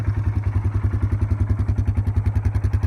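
A 2014 Polaris Sportsman 570 ATV with electronic fuel injection idles close by, its engine thumping in a steady, even rhythm with a slight clatter and no talk over it.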